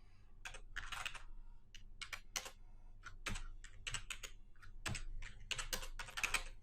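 Code typed on a computer keyboard, close, clear clusters of rapid key clicks broken by short pauses, with no talking.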